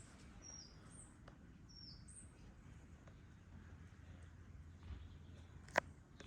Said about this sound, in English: Nice and beautiful weather. Birds are singing.